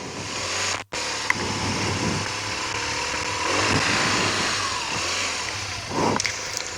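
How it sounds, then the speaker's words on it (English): Motorcycle engine running steadily at low speed, a loud close drone that swells slightly as power is applied, with a brief dropout near the start. "So as soon as I feel the bike start to tip, bring the power on, let the bike ride away."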